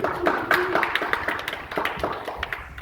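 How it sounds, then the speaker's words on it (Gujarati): A small group of people clapping after a Gujarati challenge of walking while dragging bricks; quick, uneven hand claps close by for a few seconds, with some voices talking in the background. "સારું, સરસ સરસ, તાળીઓ પાડો ભાઈ"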